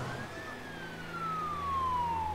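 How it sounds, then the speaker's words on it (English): An ambulance siren in the SimCity game gives a long, smooth wailing tone that sweeps downward, heard clearly over a low city rumble. "Ambulance you should have right away at the zebra crossing."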